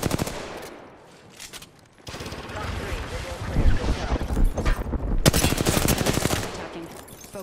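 Flatline assault rifle in the Apex Legends shooter, firing in fast automatic bursts with sharp repeated reports at close range, broken by brief pauses and mixed with other game sounds and a voice.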